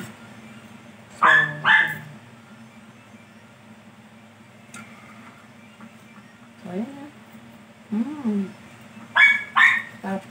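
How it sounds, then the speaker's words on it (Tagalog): A dog barks in short bursts, a few yips at a time with pauses between, while a person speaks briefly nearby. "Ang ingay ng aso namin."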